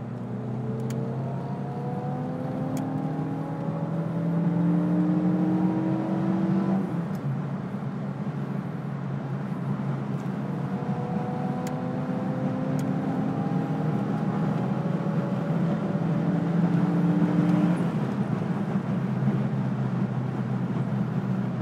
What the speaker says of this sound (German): Ich fahre jetzt hier auf die Autobahn in der Hoffnung, dass wir ein bisschen freie Strecke haben.